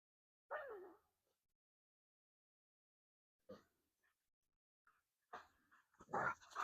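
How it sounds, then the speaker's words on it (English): Dogs in a fenced dog yard squeal and yelp in short bursts during rough play, with long quiet gaps between, growing busier toward the end. "They squeal when they're not really hurt."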